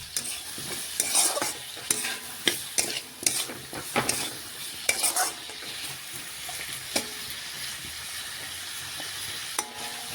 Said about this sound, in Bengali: এখন এইভাবে নাড়াচাড়া করতে করতে দেখুন চিনিটা একটু গলিয়ে নেব।